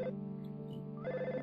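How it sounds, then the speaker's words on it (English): Electronic telephone ring from the game EarthBound, a short synthesized chiming tone that repeats in a quick pattern, faint but clear with no talk. "Phone's ringing."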